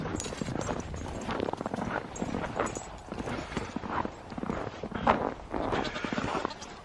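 Steady hoof-like clopping of goats walking on hard ground, with scattered footfalls overlapping throughout and a faint bleat now and then.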